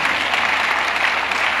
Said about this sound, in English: You can clap to that one too.